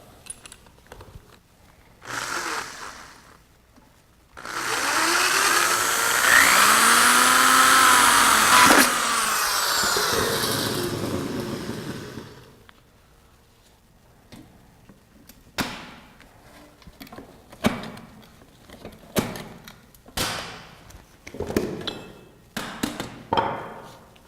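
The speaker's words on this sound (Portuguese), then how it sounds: "eu vou furar a peça e vou rebitar ela" A drill bores through a metal part for a round conduit bend, a loud whining burst lasting several seconds, followed by a series of sharp, separate clicks and taps as the part is riveted.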